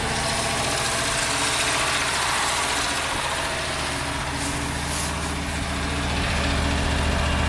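A 1954 Buick engine runs at a rough, uneven idle while smoking, a steady loud close rumble with throbbing vibration throughout and no voices.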